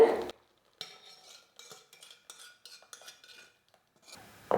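A metal ladle scrapes and clinks against a pot of Kumbakonam kadappa stew in a steady series of short stirring strokes, close up with no talking.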